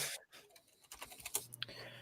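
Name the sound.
someone typing on a computer keyboard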